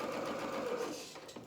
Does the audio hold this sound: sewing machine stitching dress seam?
yes